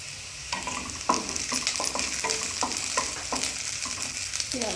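Half a spoon of cumin seeds crackling in hot oil in a pan while poha is being made, a continuous close sizzle broken by repeated scraping stirs, with no talk.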